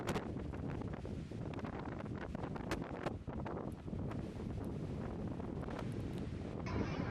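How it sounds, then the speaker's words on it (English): Strong storm winds batter Gambier Island, roaring steadily and buffeting the microphone with rough gusts, while rustling and splashing churn underneath throughout. "The winds continued to increase"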